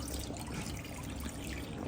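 Water poured from two glasses into a pan for making Maggi noodles, a steady soft trickling pour running throughout, fairly quiet and close, with no talk.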